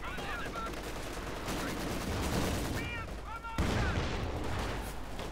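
An MG-34 machine gun fires in the real-time strategy game Company of Heroes 2, its bursts mixed into a dense, continuous battle din while a commentator talks over the action.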